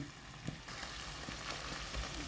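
Pork frying in a pan as the oil cooks down, a steady soft sizzle with faint crackles and an occasional light tap, quiet and continuous throughout.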